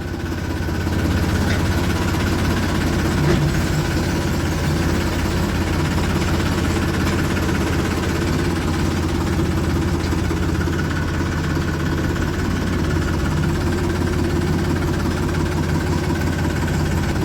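A heavy tractor engine chugs steadily nearby while hauling sugarcane, a constant low rumble with mechanical vibration throughout and no pauses.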